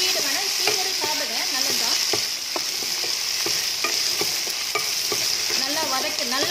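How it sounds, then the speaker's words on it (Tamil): Turkey berries (sundakkai) are sautéed in a pan with a strong, constant sizzle and repeated spoon or spatula scrapes stirring them at a brisk, uneven rhythm, close and loud, with no talking. "சுண்டக்காய் வந்து நம்ம போட்டு ஃபுல்லாகவே வதக்கிக்கலாம்"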